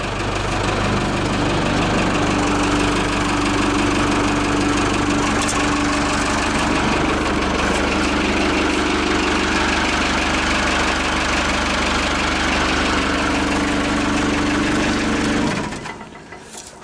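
Perkins diesel engine of a forklift idling, a loud steady low rumble with a constant drone that runs for about fifteen seconds before cutting off abruptly near the end.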